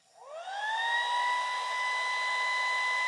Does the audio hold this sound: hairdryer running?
yes